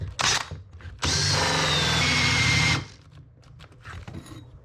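A power drill bores a 2-inch hole into a boat's frame, a short tap of the bit before one sustained, loud whine of cutting lasting under two seconds, then stopping, leaving faint knocks and handling noise.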